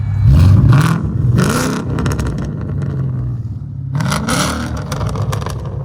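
A Ford Mustang GT with a 5.0L V8, six-speed and aftermarket Corsa or Bassani exhaust revs loudly and close, two sharp throttle blips up front, then an idle rumble and another climbing rev.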